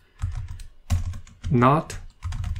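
Rapid clicking bursts of typing on a computer keyboard while entering Solidity smart-contract code, loud and close, broken by a brief spoken word in the middle before the key clatter resumes.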